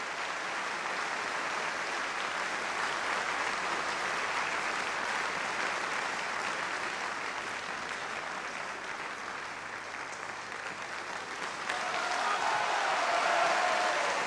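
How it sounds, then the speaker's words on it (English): Opera audience at the London Coliseum breaks into a long, dense roar of applause after a Merry Widow performance, steady and full throughout and swelling louder near the end. "roar of applause for Della Jones as Valenciennes and Graham Clark as Camille de Rosillon"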